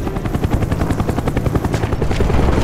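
An enemy Cobra attack helicopter in the video game Call of Duty: Black Ops makes a loud, continuous rotor thumping that beats rapidly and evenly throughout.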